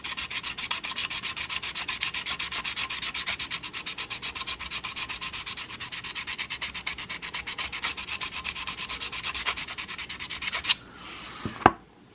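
A Sirius Evolution 2.0 single-bevel head is ground against a 200-grit sharpening stone to strip its coating, giving a steady, close rasping rub in quick repeated strokes for about eleven seconds before stopping, with a couple of brief knocks at the end.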